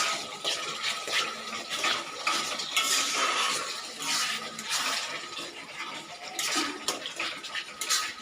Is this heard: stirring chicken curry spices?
yes